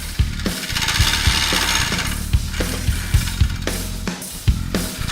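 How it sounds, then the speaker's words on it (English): Acrylic bottle stopper spinning on a wood lathe while a round carbide tool cuts it, a continuous rough grinding hum with chattering scrapes and sharp knocks from chipping, close and loud with no speech. "I'm using this round carbide tool, and I'm getting a lot of chatter and chip out here on the bottom side."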